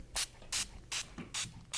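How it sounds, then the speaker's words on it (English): Short bursts of non-aerosol hair spray from a pump bottle during an 80s hairstyling session, five quick close hissing sprays in a steady rhythm with brief quiet gaps between them. "we're going to spray it. And this is a non-aerosol spray"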